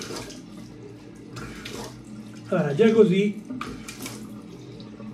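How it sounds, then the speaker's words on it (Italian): Cold tap water splashes briefly as a man rinses his face after shaving, a short burst of running and splashing between stretches of his talking. "adesso mi sciacquo un attimo il viso,"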